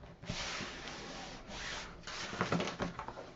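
A folded paper card is burnished by hand, giving soft, close rubbing and scraping strokes in several short passes.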